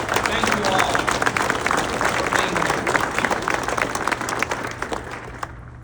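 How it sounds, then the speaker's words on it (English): Crowd applause for city officials at a pickleball club ribbon cutting, a dense steady round of clapping from many hands, tapering slightly toward the end, with voices mixed in. "Let's give you a round of applause."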